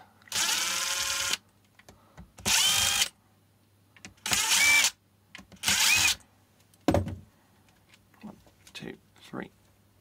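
A power driver with a Torx 10 bit backs screws out of a Mahle X35 e-bike battery in four whirring bursts of about a second each. Short, quieter clicks and blips follow. It is fairly faint overall.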